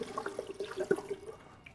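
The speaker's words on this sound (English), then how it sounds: "we're gonna bring the water level up to about right here" Water splashes and trickles as it is poured into a homemade mead container, a short run of faint, irregular sloshing close by with no one talking.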